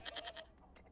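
Goat in the Indiana Jones video game bleating in a short, wavering burst, fairly close and quiet, followed by a few faint tail-off sounds.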